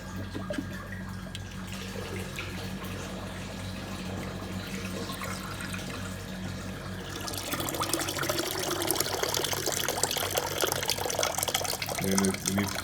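Bucket of fresh water poured into a Whoopee ice cream machine while it is being cleaned: a continuous gushing, splashing flow that grows fuller and louder partway through, with quiet background noise.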